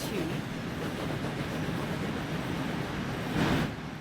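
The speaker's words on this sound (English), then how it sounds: "Just wait for that train to pass because it's fucking drowning me out." A train rolls past in the railway game Transport Fever 2, a steady broadband rumble of wheels and carriages that fills the whole stretch and swells slightly near the end.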